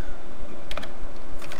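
Rapid, uneven typing on a computer keyboard during word-processing data entry, with clustered key clicks close to the mic and no voice heard.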